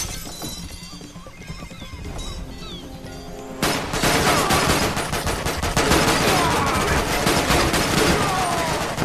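Gunfire in the PS3 game 007 Quantum of Solace: a sudden loud barrage of rapid shots and shattering impacts that continues steadily, following quieter scattered action.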